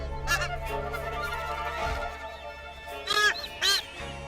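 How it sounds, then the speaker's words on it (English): Small vampire finches on an island give a few short harsh calls, bunched into a burst near the start and two louder bursts near the end, over a steady low background rumble. "vampire finches."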